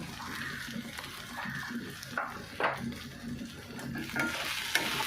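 Dry ground spices, cumin, coriander, turmeric and Kashmiri red chilli powder with sugar and salt, are stirred in a hot pan, giving soft scraping strokes and a low sizzle, close by with faint background noise.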